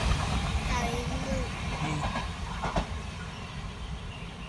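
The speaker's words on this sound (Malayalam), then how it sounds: "ആ പോണു ട്രെയിൻ" A Guruvayur–Thrissur passenger train rolls past on a long straight track below a bridge, a steady rumble with faint wheel clatter, while people talk nearby.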